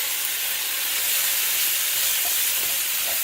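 Chicken and diced yellow onions fry steadily in a pan, a loud continuous sizzle and hiss with faint stirring scrapes near the end and no talking.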